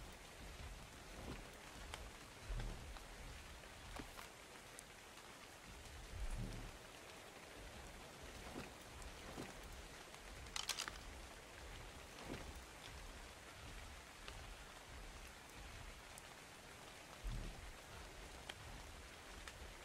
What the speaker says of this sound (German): Wie lang geht denn der Regen?